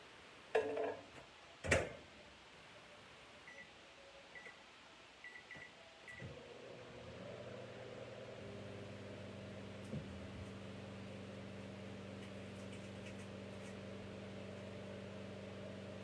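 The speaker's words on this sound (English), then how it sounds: "I'm going to put this in the microwave for about a minute on defrost." A few clinks and beeps at first, then a microwave oven starts on defrost and runs with a steady low hum, close by.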